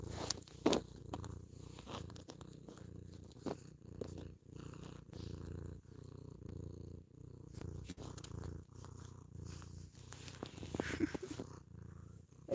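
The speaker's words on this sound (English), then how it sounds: "My cat's just purring into the mic right now." A cat purring close to the microphone, a steady, soft rumbling purr throughout with small rustles and clicks, no speech.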